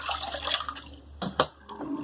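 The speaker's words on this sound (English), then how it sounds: "Empty that water," Water poured out of a shaving basin after a straight razor shave, a short splashing pour with a brief gush near the end, close by and alone.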